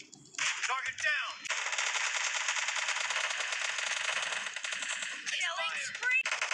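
Kar98 rifle and M416 rifle gunfire in a PUBG-style shooter video game, a sustained rapid automatic burst with sharp cracks, bracketed by shorter shot clusters at the start and end.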